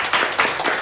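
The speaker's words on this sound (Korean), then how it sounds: "감사의 박수 한번" Brief burst of congregational applause at a Sunday morning church worship service, a dense wash of many hands clapping together at steady volume throughout, with no voices over it.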